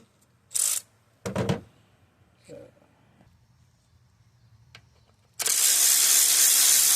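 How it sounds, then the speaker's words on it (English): A ratchet works on a 10 mm bolt in the engine bay of a 2016 Hyundai Tucson, giving a few short, close clicking bursts separated by quiet gaps, then a louder sustained rasp at the end, with some speech present. "now we have to remove the 10 millimeter bolt"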